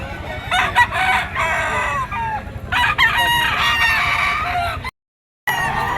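A Kelso bloodline gamecock rooster crows at a busy pet market, several loud, close crows and clucks over a steady crowd murmur, with a brief dropout near the end.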